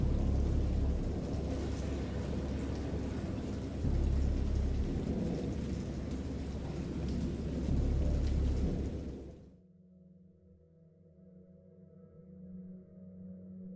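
Heavy, steady rain with deep rolling thunder in a video game, loud and continuous, then dropping suddenly to a quieter low rumble with lighter patter.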